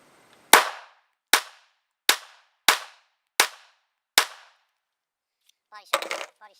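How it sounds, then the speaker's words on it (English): Six sharp Glock 43 pistol shots ring out at an even pace about a second apart, each loud crack decaying quickly, followed by brief faint voices after the last round. "We'll go through 2 magazines, and I'm going to try for, let's do first magazine, we'll go for headshots."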